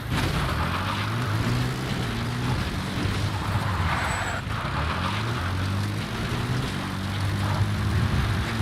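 A support helicopter arrives in a video game, a steady droning rotor and engine roar holding loud and continuous throughout with no talk over it.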